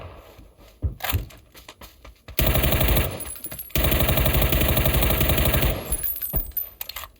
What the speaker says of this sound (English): Not very good at hip firing, apparently.